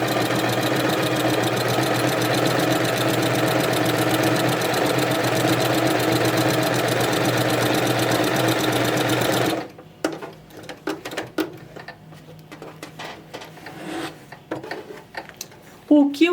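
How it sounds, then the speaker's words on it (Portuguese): A sewing machine fitted with a closed straight quilting foot and seam guide runs steadily, stitching a crossed quilt pattern with a loud, even mechanical whir for about ten seconds. It then stops, leaving scattered small clicks and handling noises. "E eu vou costurar aqui do lado, que eu vou fazer um quilt cruzado."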